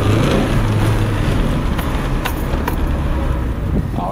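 Suzuki Escudo on a test drive after a front wheel bearing replacement, a steady broadband road and engine rumble from inside the cabin with no clear distinct noise standing out.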